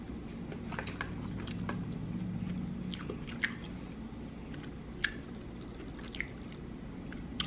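Someone chews a small piece of turtle cookie up close, soft wet squishing and crunchy bites with a few sharp clicks over low room hum, no talking.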